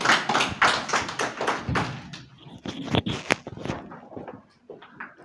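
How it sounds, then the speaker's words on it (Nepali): A church-run apologetics class claps to welcome the teacher. Sharp, fairly close handclaps come in a short burst and thin out into scattered taps and a few softer thuds. "हामी ताली बजाएर सरलाई स्वागत गर्नेछौँ।"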